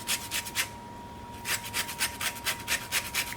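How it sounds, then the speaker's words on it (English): An orange rubbed against a zester for maple cranberry sauce, a rhythmic series of close, rasping scrapes with one short pause before the strokes resume steadily. "I'm going to zest my orange. So get a nice zester here, and then just rub it along."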